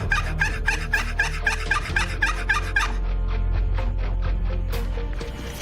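A hunter works a wooden turkey box call in the woods, producing a quick rhythmic run of about ten sharp, raspy yelps, then a looser series of softer clucking notes trailing off.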